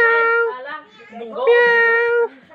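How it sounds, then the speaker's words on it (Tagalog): A cat on a rural farm gives two drawn-out, close meows, the second longer and louder, with a short pause between them. "Meow, meow, meow, meow, meow, meow."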